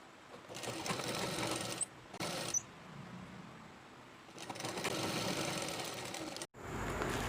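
A sewing machine stitches a folded border onto a nighty in several close, steady whirring bursts separated by brief pauses.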